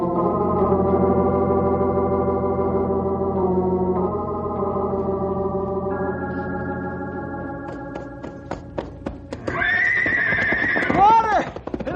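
Horses in a hot desert setting whinny in long tonal calls, a sustained tonal sound giving way to a loud high neigh near the end, with faint hoof clops beneath.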